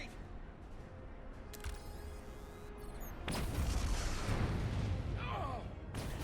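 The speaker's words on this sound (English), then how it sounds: "there's an explosion, not an implosion" Explosion in the Star Trek Resurgence video game, a sudden loud broadband blast that swells at midpoint and rumbles on heavily over a steady low background, with faint game speech under it.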